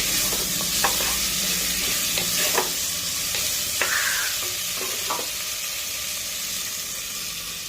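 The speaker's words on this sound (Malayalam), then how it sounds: "അരിഞ്ഞു വെച്ചിരിക്കുന്ന ഉരുളക്കിഴങ്ങ് ഇട്ട് കൊടുക്കാം. നന്നായി ഇളക്കി യോജിപ്പിച്ച ശേഷം" Chopped potatoes sizzle in a pan while being stirred, with a continuous frying hiss and a handful of light utensil scrapes and taps spread through the first half.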